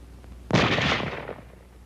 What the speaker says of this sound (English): When a cartridge is fired,